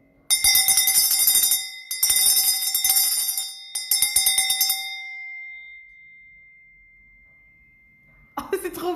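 A bell rings in three bursts of rapid metallic strikes, bright and loud with a long humming ring that fades away, followed by a brief burst of voice at the end.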